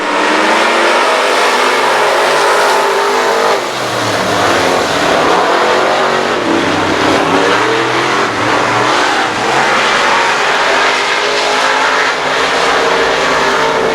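Race cars roaring through a heat race at I-37 Speedway, loud sustained engine drone with rising and falling revs as cars pass close, continuous throughout.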